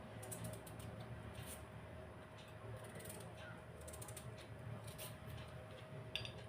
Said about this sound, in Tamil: காய் கட் பண்ண ஆரம்பிச்சிடலாம்.